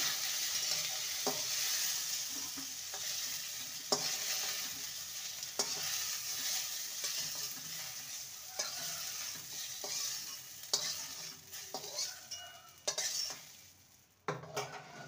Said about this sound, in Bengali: ঝিঙেটাকে ভেজে নিয়েছি, এবার তুলে নেব।